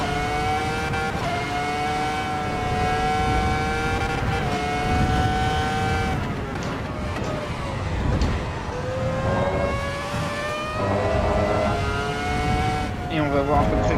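A Ferrari F2004 Formula One engine screams around the Nordschleife in Assetto Corsa EVO, with loud high-pitched revving that rises and drops through gear changes, continuously, as someone talks over it.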